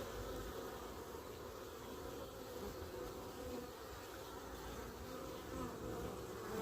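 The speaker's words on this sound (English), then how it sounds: "Hear the beautiful sound of the bees." A dense, steady buzzing of many honeybees inside a hive during a winter check, close and continuous, droning without pause and with no voices.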